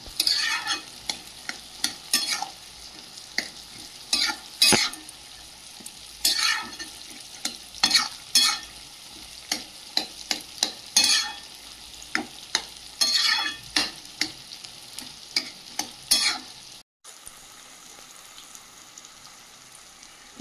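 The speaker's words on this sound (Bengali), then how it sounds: "পেঁয়াজটা ভাজা ভাজা হয়ে গেছে" Onions frying in a pan are stirred with repeated scraping strokes over a steady, close sizzle. The irregular bursts keep going without talk, then cut off briefly near the end.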